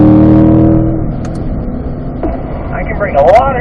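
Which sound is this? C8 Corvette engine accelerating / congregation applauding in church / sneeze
C8 Corvette engine accelerating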